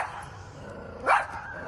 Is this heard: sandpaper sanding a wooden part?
no